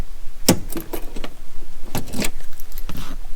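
Keys jangle close by in several sharp bursts with brief pauses, a metallic rattle from handling the antenna key of a barn-find Porsche 356 Cabriolet, with no voices.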